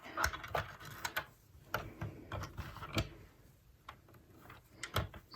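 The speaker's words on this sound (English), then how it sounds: "You can just spin the machine backwards and pick it up." A Sentro knitting machine spun backwards by hand while knitting a striped beanie, giving a run of close mechanical ticks and ratcheting clicks at an uneven rhythm, fairly faint, with no talking.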